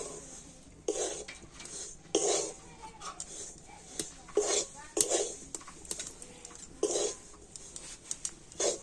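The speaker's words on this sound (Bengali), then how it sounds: "তো উনানের জালটা একেবারে হালকা দিয়ে আর এইভাবে সবকিছু ভালো করে মিশিয়ে নিতে হবে।" A spoon scrapes and clinks against a pan as a milk mixture is stirred over a low flame, in repeated short strokes at close range, loud and then quieter, with no one talking.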